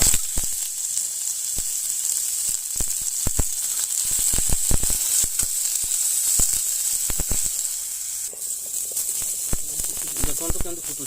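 Pointed gourd fries in hot oil in a home kitchen, giving a continuous crackling sizzle with sharp pops scattered throughout, while a person talks over it.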